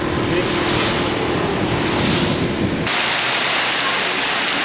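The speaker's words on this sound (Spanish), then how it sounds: "Empiezan las gotitas chiquititas, buscamos un lugar como este para refugiarnos" Rain falls steadily during a trip in Thailand, a dense, even hiss of drops with a sudden shift partway through where the low rumble drops away, leaving a lighter, brighter patter.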